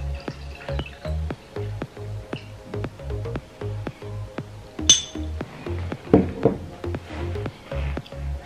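Glasses of home-brewed cider clink together in a toast: a bright chink or two over a steady, rhythmic low thumping in the background.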